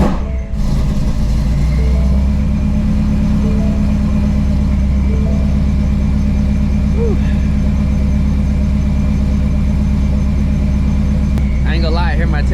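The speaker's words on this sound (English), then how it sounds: "Let's go ahead and get a cold start" A supercharged Ford Mustang GT350 running a 104 and 93 octane race fuel mix settles into a loud, steady idle right after a cold start, with a constant close engine drone for the whole stretch and brief talk near the end.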